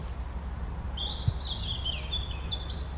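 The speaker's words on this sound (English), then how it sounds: "It's good to be down here in the evening and listen to the birds" Birdsong in an allotment garden on an evening, a single thin, high warbling phrase over a steady low background hum, faint and somewhat distant.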